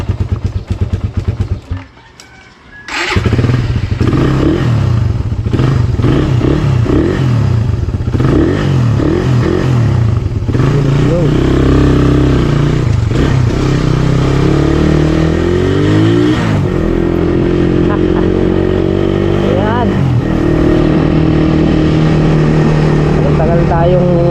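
A motorcycle engine sputters, catches and starts, then runs loudly and steadily nearby, revving now and then, with a voice and roosters faint underneath.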